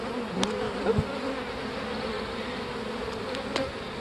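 Honeybees swarm and hum around an open hive during an inspection, a dense steady drone close by with a few individual bees zipping past the ear.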